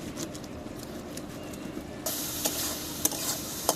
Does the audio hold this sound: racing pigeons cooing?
no